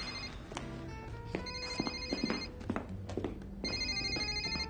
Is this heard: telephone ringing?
yes